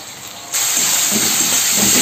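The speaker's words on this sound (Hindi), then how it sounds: "अब मैं इसमें ऐड करूंगी अदरक लहसुन का पेस्ट।" Ginger garlic paste dropped into frying mushrooms: a sudden loud, bright sizzle bursts in after a quieter start and holds as a steady close hiss.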